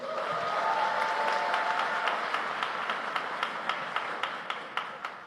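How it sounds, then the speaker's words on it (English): An audience at the WSDC 2025 Grand Final, a world schools debating championship, gives a warm round of applause for a judge being introduced, with dense, steady clapping that slowly thins and fades. "If you could kindly give a warm round of applause one by one"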